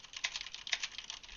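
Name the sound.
typing on Corsair K70 mechanical keyboard, MX Red switches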